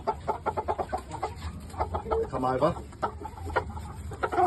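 Blue red Shamo game chickens cluck and call close by in a pen, a busy run of short clucks, with someone speaking briefly over them.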